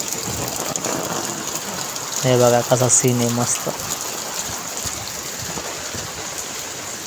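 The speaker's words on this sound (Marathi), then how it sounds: "रिमझिम रिमझिम रिमझिम चालू आहे पावसाची" Light drizzling rain makes a steady, soft hiss along a rural lane while someone speaks briefly over it.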